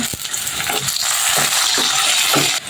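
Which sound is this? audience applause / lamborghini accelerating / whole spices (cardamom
whole spices (cardamom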